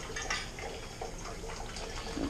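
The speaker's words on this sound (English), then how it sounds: "The sparge water's coming up slowly as all hell." Hot sparge water running steadily for a blueberry beer brew, a soft continuous watery hiss with faint trickling, low and even throughout.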